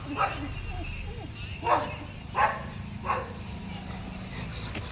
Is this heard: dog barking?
yes